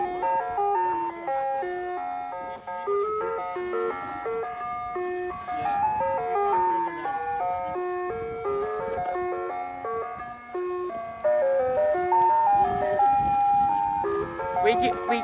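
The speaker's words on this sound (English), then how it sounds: "we got ice cream truck again" Ice cream truck jingle from a Dodge Ram ice cream truck, a loud, continuous melodic chime tune playing steadily throughout, close by and dominating the scene.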